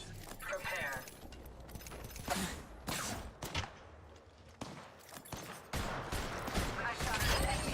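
Video game gunfire in clustered bursts and sharp cracks under near-continuous talking, with varying intensity across the stretch.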